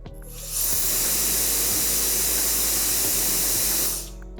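Powerful steady rush of air from an X7 turbo fan blower running without its nozzle, spinning up within half a second, holding a loud even hiss, then cutting off near the end.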